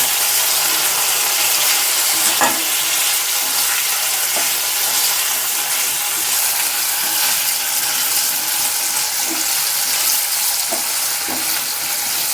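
Bay leaf, ginger and tomato fry in a pan for a cabbage curry, a loud, dense, unbroken sizzle with occasional scraping knocks as the mixture is stirred, no speech.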